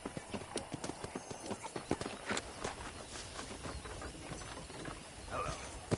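A horse's hooves clip-clop at a walking pace in the Red Dead Redemption game, a steady rhythm of close hoofbeats with faint tack rattles and a brief snort near the end.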